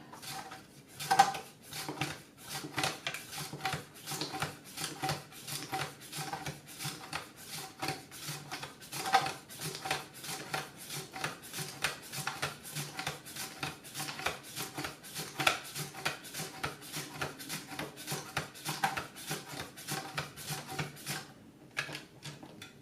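Cucumber run quickly over a Swissmar Borner V-Slicer Plus mandoline, giving a steady rapid series of scraping, clicking slicing strokes that continue almost without a pause, close by and with no talking.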